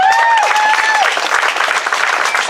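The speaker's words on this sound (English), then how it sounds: "So clap it up for that." Crowd at an outdoor Black Lives Matter rally breaks into dense applause, with cheering voices and a few tonal shouts over the steady clapping.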